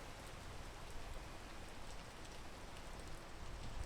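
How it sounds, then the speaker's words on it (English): Rain falls in the video game PEAK, a steady hiss of dense drops, soft and even throughout with no voices. "we just have to wait for this rain to go"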